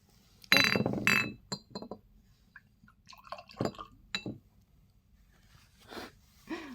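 Isla de Tesoro Cuban rum poured into a glass, with a sharp clink of glass near the start, then brief trickles, drips and small knocks in a quiet room.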